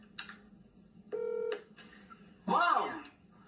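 Telephone keypad tones beep in short bursts during a three-way phone call, heard over the line with faint background voices and a brief spoken exchange.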